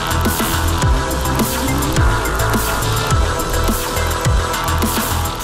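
Dualtron Spider electric scooter with dual motors in eco mode at speed setting 3 climbing a steep hill, giving a loud, continuous motor whine with repeated rising pitch sweeps over steady wind and road rumble.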